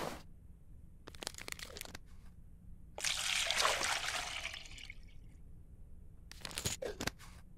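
Water trickles and splashes as it is collected in the Fairy Godmother Stories 1: Cinderella video game, with short crunchy bursts near the start and end and a longer, fuller gush in the middle, with no voices.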